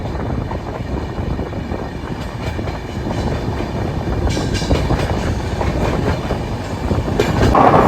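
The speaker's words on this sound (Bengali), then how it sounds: "সময় ঘড়িতে 2:05 আমাদের ট্রেন কাসল রক স্টেশন ছাড়লো।" Amaravati Express passenger train pulling out of Castle Rock station, a steady rumble and rhythmic clatter of wheels on rail heard from inside the train, growing slightly louder toward the end, with no talk.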